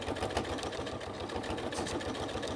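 A sewing machine stitches through pleather patchwork, a steady close mechanical whir with a rapid rhythmic needle thump running continuously.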